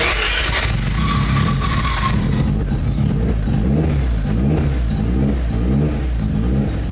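A Mazda RX-7 engine revs loudly and continuously, rising and falling in pitch with a steady low rumble throughout.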